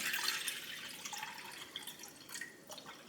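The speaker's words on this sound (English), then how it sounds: "adding some water into this pan" Water runs into a frying pan used for cooking chicken, a soft steady trickle with faint splashing, heard alone and fairly quiet.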